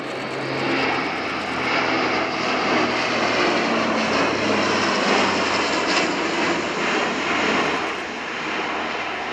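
A military aircraft descends to land at the RIAT 2018 Fairford airshow, undercarriage down, its engines a loud, steady, broad roar that holds throughout.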